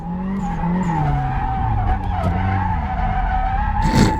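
A car skids and spins out while drifting, with a loud sustained tire squeal over engine noise that wavers in pitch for several seconds before a brief rough scrape at the end.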